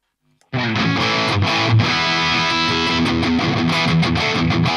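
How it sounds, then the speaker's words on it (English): Harley Benton Dullahan electric guitar played through heavy distortion, a dense sustained wall of chords and riffs that kicks in abruptly after a brief silence and stays loud and steady throughout. "Okay, so some distortion sounds."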